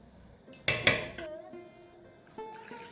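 A small spoon clinking against a bowl while scooping measured spoonfuls of ingredient for a homemade snack, a few sharp metallic taps and ringing chimes, fairly quiet and close.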